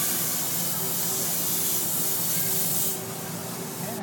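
Airbrush spraying paint onto a t-shirt, a steady close hiss of compressed air throughout that softens slightly toward the end.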